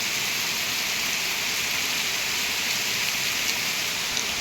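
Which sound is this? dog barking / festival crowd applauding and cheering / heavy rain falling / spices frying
heavy rain falling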